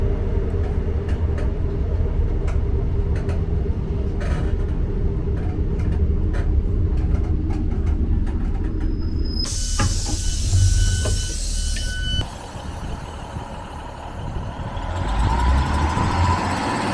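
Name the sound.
Blackpool South passenger train running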